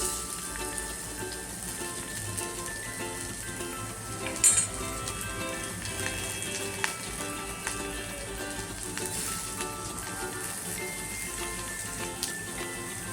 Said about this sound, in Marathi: म्हणून त्याच भांड्यामध्ये आपण फोडणीला घालूया.